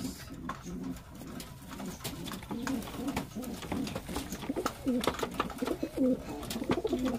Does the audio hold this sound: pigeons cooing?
yes